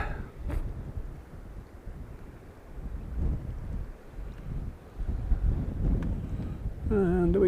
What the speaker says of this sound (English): could do without this wind